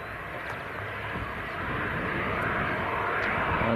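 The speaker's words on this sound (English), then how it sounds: "this Ryanair that's taxiing out, good old Boeing 737-800" Ryanair Boeing 737-800 taxiing at Leeds Bradford Airport, a steady broad jet-engine roar that grows slightly louder, heard from outdoors with no talking.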